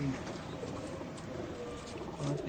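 Pigeons cooing softly nearby in a pigeon loft, low repeated coos at the start and again near the end over faint background noise, without speech.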